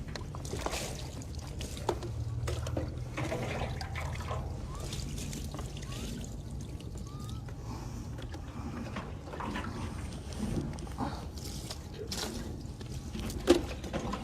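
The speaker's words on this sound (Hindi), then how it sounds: "ये 3 दफ़ा हम पानी इस तरह से बहा देंगे" Water trickles and pours over a deceased body during Islamic ritual washing (ghusl). Soft, intermittent splashes and dribbles sound close by, with quiet handling noises and occasional low speech in the background.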